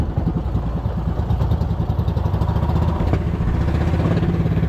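A boat engine misfiring at sea, a loud, close, steady mechanical chug with uneven knocking pulses throughout.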